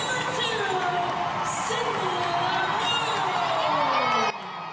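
Five-year-old Cassius cheering on his mom at her game, mixed into a loud continuous crowd roar with children shouting and whoops throughout, cutting off abruptly near the end.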